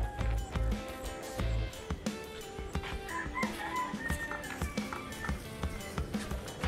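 Rhode Island Red chickens cluck and call repeatedly in irregular bursts, with scattered knocks and background activity close by.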